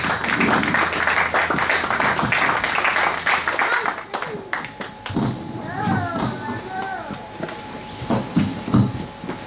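Congregation applause in a French-speaking church service, dense clapping for the first few seconds that thins out as voices, cheering and singing rise over it.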